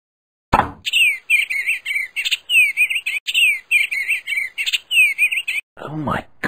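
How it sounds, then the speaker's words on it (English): A cartoon yellowfinch warbler chirps in quick, close, loud bursts of bright, repeated tweets that run for several seconds before a brief different sound at the end. "It's an endangered yellowfinch warbler."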